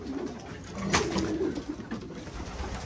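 Soft, low cooing of racing and breeding pigeons with a few murmuring calls over a steady background hum, fairly close and continuous.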